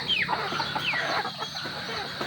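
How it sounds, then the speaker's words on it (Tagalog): Native chickens and their chicks cluck nearby, with short, high, descending chick peeps over a steady farmyard background. "Halong mga sisiw."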